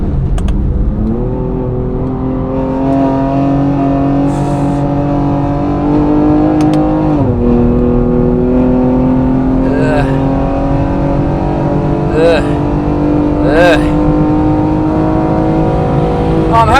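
McLaren 765LT accelerating hard on the Nürburgring, its engine loud and close from inside the cabin, rising and falling through gear changes with sharp shift blips, while a driver talks over it.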